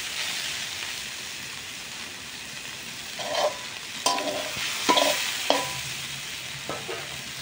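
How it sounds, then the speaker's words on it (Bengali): Pumpkin greens fry in a pan with garlic and green chillies under a constant close sizzle, while a spatula scrapes and stirs in several distinct strokes through the second half, with no talking. "কুমড়ো শাক ভাজা রসুন দিয়ে কাঁচা ঝাল দিয়ে"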